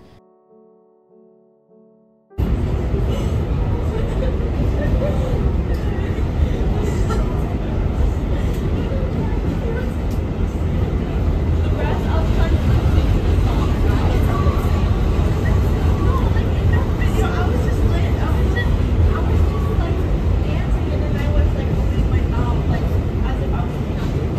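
A New York subway train at Grand Central station produces a loud, continuous rumbling roar that begins abruptly after a brief quiet opening and holds steady to the end, with indistinct voices blended into the din.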